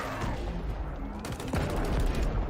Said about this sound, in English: you shoot his knee to make him stumble